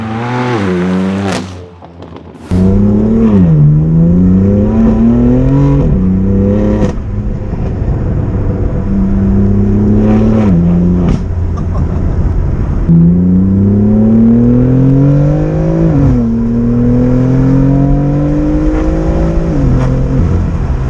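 A BMW M4 accelerates hard through several gears, its engine rising in pitch with each pull then dropping at shifts, loud and close from inside the car after a brief door and starting noise.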